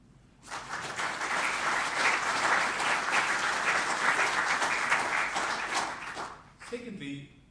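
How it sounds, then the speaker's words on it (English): Sustained applause fills a hall at a 25th anniversary event marking South Africa's constitutional transformation, rising quickly to a dense, even roar for about six seconds before fading as a voice resumes. "He needs our applause for that."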